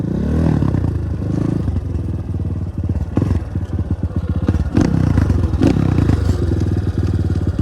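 A 250 CRZ motorcycle engine ridden in fourth gear, heard close up as a loud, rapid, pulsing engine drone with rattling clatter and bumps from the ride, continuous and without talk.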